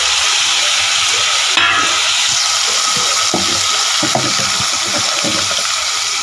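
Ginger garlic paste and chopped tomato sauté in a pan while cooking chicken salna, with a steady soft sizzle and occasional scraping stir clicks, heard close and continuous without speech.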